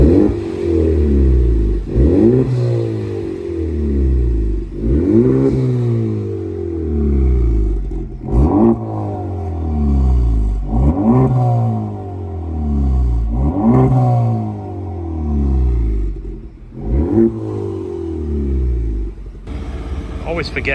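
An Acura NSX Type R with a PRL intercooler drives down a side street, its engine revving in repeated rising pulls with gear changes, loud and close, with a steady rumble throughout.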